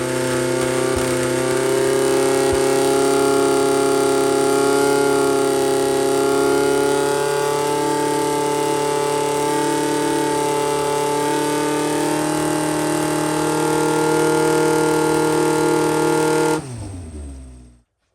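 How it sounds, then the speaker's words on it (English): An engine runs steadily at full wide-open throttle under load, a loud sustained drone with strong, stable harmonics that holds for about sixteen seconds before abruptly cutting off and winding down to silence. "you've just seen a video of this engine running under load"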